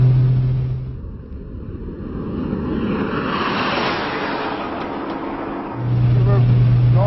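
A fast 1996 sports car with low-restriction mufflers accelerates hard at high revs around a banked track, a loud sustained engine roar rising in pitch over several seconds, with wind noise inside the cabin.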